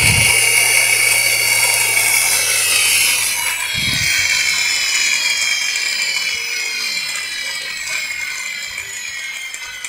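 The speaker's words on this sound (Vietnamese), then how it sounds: "Mình có để cái điện thoại này lên trên cái động cơ cho các bạn xem cái độ rung của nó." A 60V 1500W geared electric motor runs steadily, a continuous high-pitched mechanical whine with hum layered over it that holds level for the whole stretch, close by and without any talk.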